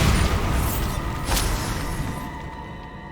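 A Bombarda explosion spell in Hogwarts Legacy bursts with a sharp blast over a rumbling background, then fades into a dwindling, softer rumble.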